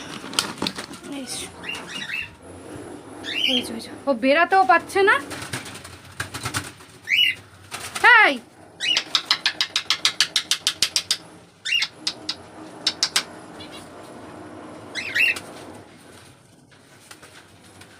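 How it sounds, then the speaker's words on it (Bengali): Caged birds, pigeons among them, flutter and flap their wings in bursts inside a bird room while a snake is loose, with rapid wing clatters and some cooing; a person speaks briefly. "ঘর থেকে আওয়াজ পাচ্ছি যে পাখিগুলো ছটফট করছে"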